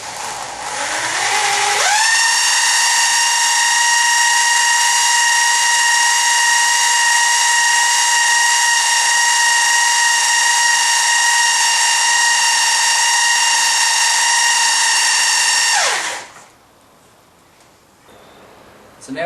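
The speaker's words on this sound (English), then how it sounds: "We'll spin this drill up and see if we've got some pressure." An electric drill spinning an engine oil pump to build oil pressure winds up and runs at a steady high whine for about fourteen seconds, then spins down abruptly into near quiet.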